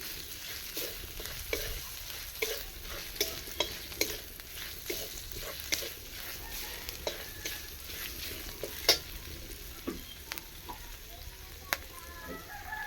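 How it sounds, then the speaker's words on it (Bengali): Ginger frying and being stirred in a pan for paneer malai kofta curry, a constant crackling sizzle with frequent light spatula taps and scrapes, fairly quiet and close, a faint rooster sometimes audible in the background. "ভালো করে ভেজে নিচ্ছি আদা কাঁচা গন্ধটা চলে যাবে তাহলে একটু নেড়ে ভেজে নিলে"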